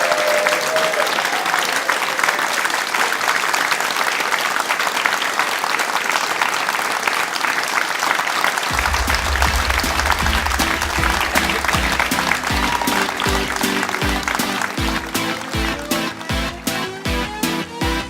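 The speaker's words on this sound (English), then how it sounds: "Give yourselves a huge round of" A theatre audience at a comedy show at the Pleasance claps loudly and steadily in sustained applause, with music swelling in beneath it about halfway through.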